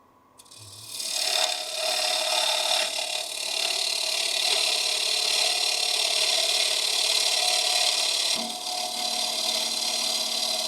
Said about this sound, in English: Running a bevel riding cut.